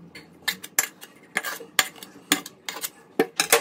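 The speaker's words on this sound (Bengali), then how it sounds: "এবার গ্যাসটা বন্ধ করে এটা তেল মাখানো পাত্রটার উপর আমি ঢেলে নিচ্ছি" A hot cooked mixture is scraped out of a kadai into an oiled dish, giving a run of sharp metallic scrapes and clinks in uneven bursts, close and fairly loud, with no voices.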